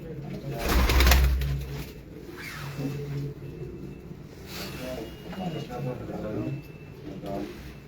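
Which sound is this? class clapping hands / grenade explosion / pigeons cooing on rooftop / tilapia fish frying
pigeons cooing on rooftop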